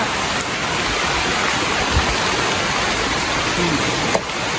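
Rain falling outdoors at a home cooking spot, a dense steady hiss of drops with a few faint knocks and clicks, loud and close, with no voices.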